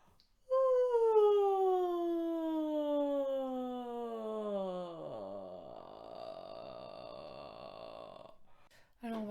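A single long croaking, groaning vocal sound from a vocal warm-up exercise imitating a toad, starting low and sliding into a rough, creaky rattle, heard alone.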